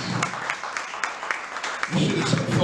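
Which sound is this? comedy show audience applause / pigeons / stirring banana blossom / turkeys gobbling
comedy show audience applause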